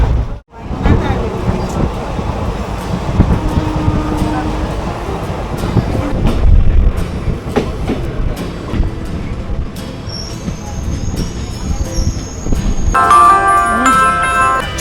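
The Sealdah-Lalgola passenger train rumbles along the rails, its wheels clattering and squealing in a loud, continuous ride with high screeching tones near the end, and no talk.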